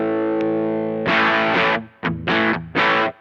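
Electric guitar driven through a JHS Kilt V2 overdrive pedal with its low cut switch on, playing a sustained distorted chord that rings out, then three short chopped bursts of crunchy chords, loud and alone.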